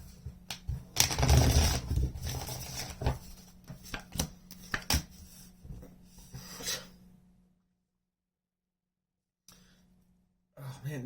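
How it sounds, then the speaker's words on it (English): Tarot cards shuffled by hand, a close, dense papery riffling and rustling that runs for about seven seconds, drops into silence, then returns briefly at the very end. "Just want to get a real good shuffle in there."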